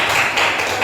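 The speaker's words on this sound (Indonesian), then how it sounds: "Nah, kita tepuk tangan nak." Students clapping their hands together in a classroom, a steady dense patter of applause held for under a second with no talking.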